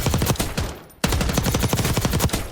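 Assault rifle fire in the video game Call of Duty: Warzone: loud, sustained automatic bursts with a rapid, steady rhythm, broken by a short pause before the firing resumes.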